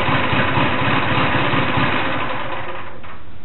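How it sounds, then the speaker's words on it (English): An engine runs just after a cold start on a frigid January night at about ten below zero, a loud, steady, close-up idle with a rough, throbbing rumble that eases slightly near the end. "Nice cold start here on a cold January night."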